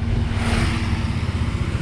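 A 2022 Yamaha NMAX scooter engine catches and runs with a steady, close mechanical hum and a low, even buzz, brief and continuous.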